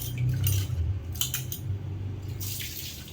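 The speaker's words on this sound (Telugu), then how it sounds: "ముందుగా వాటిని కడుక్కోవాలి. దీనిపైన ఇసుక ఉంటుంది, మొత్తం అంతా దుమ్ము కడిగేసుకోవాలి." Taro roots being rinsed in water, with sloshing and rubbing and a few light clinks of a vessel, close and fairly quiet over a low hum.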